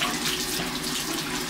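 Tap water runs steadily into a sink while a face is rinsed, a continuous close splashing rush with no voices.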